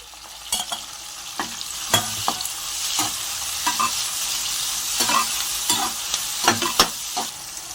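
Onion and green chilli frying with tomatoes in a pan for upma, a steady sizzle broken by sharp spatula scrapes and stirring clinks at irregular intervals, close and clear with no talk.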